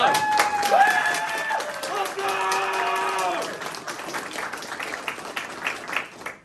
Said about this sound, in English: can we give ourselves all a round of applause for getting into the UW?